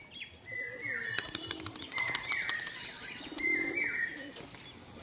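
Pigeons at a loft coo and flutter nearby, with repeated wing flaps and soft calls, no talking.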